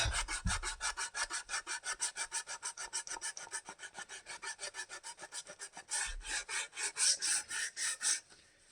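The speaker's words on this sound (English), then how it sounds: "All right, I am been sanding here for quite a while." Hand sanding of the wooden body of a Telecaster-style guitar, heard as a steady run of close, even back-and-forth rasping strokes, quiet overall, with a brief pause before the rhythm resumes.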